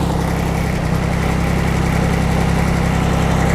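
A Yanmar F14D farm tractor, a Japanese import, runs with its engine idling steadily at close range, a continuous loud low rumble with no speech over it.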